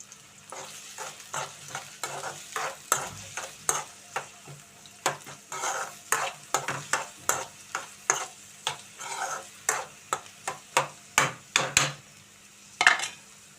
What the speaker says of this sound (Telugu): ఇప్పుడైతే దీనిలో ఉల్లిపాయలు అయితే వేసి వేయించుకుందామండి